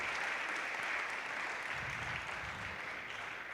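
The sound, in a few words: church congregation applauding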